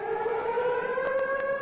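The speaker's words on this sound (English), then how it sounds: "The siren, of course, going off." A wailing siren in the Free Fire battle royale game drones steadily at a moderate level, with faint clicks and taps from gameplay scattered over it.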